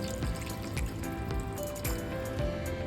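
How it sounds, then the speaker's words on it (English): Two cups of water pour into a pot of beef biryani with spiced meat and masala, a continuous splashing trickle that runs steadily throughout, mixed with faint background music. "And then add 2 cups of water."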